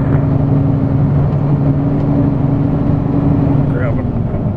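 A vehicle engine grinds steadily uphill on a road beside a huge pile of logs, a loud continuous drone with a low hum that holds through a gear change, nearby and unbroken.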